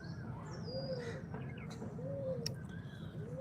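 Free-roaming fantail pigeons in an open yard in the morning, with soft cooing and bird calls repeating over a steady, busy background hum, moderately close.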